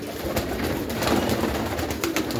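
Soft pigeon cooing amid diffuse background noise, with a few faint clicks and rustles scattered through.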